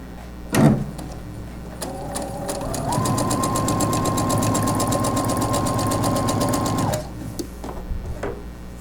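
Sewing machine topstitching around the edge of cloth napkins, a steady fast mechanical whir for about four seconds after a brief start, with a small knock before and handling noises after.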